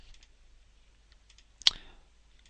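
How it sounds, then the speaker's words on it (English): A single crisp mouse right-click in quiet, one sharp snap standing alone against faint background hiss, captured while building a clock in Second Life. "Right click"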